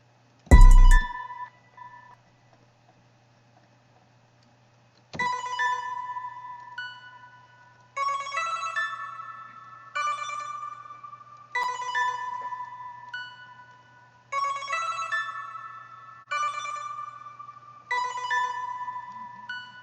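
Simple digital beat melodies built in FL Studio for a track play together alone: bright bell-like synth phrases repeat in short bursts with gaps of space between them, over a steady low hum, after one sharp opening hit.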